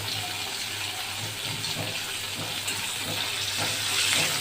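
Pieces of katla fish frying in hot oil, a dense steady crackle and hiss that swells slightly toward the end, close and continuous with no voices.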